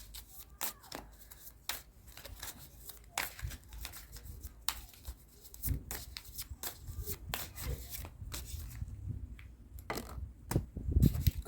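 Tarot cards are shuffled and pulled from the deck by hand, soft papery riffles, taps and slides coming in irregular quick bursts, fairly quiet and close, with a slightly louder flurry near the end.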